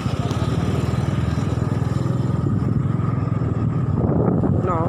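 Big motorbikes and container trucks pass along a road, a steady close engine drone with a rapid throbbing pulse that swells slightly toward the end.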